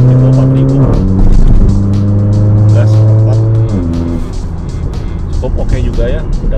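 A Mercedes GLA45 AMG with a Valvetronic exhaust runs at partial throttle around 4000 RPM, giving a loud, close engine drone with a steady tone that rises and drops in pitch as revs shift.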